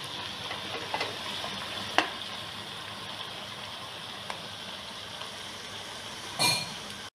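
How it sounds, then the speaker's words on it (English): Sliced onions fry in hot oil toward golden brown for Malabar chicken biryani, a soft, steady sizzle with bubbling hiss throughout and a few brief clicks and pops. "Keep it about 3 minutes till the onions become golden brown"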